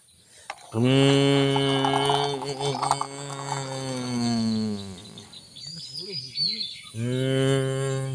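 A cartoon cow moos in long, loud, drawn-out calls, two sustained lows separated by a short gap, with a brief squeaky chirping and rattling effect in between.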